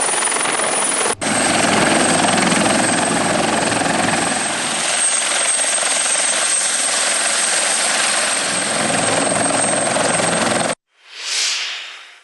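A Bell 412 helicopter during a fishermen rescue in Sri Lanka gives a loud, steady rotor and engine roar, close and sustained, with a brief cut near the start and a fading whoosh at the end.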